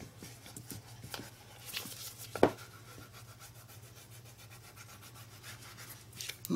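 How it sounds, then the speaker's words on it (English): A hand rubs down and burnishes a book cover wrap, a faint soft scuffing with a few light taps over quiet background hum. "I'm just using my hand to be able to"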